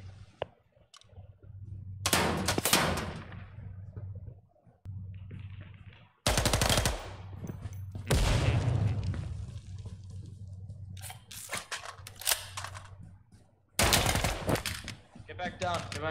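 Gunfire in the tactical shooter game Ground Branch, with loud bursts of automatic fire and shots in separate volleys, mixed with clicks and voices talking between the bursts.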